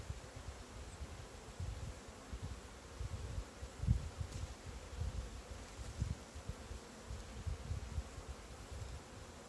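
Honeybees humming around an open hive being inspected on a ranch, a steady, fairly faint drone with swells of closer buzzing as individual bees pass near.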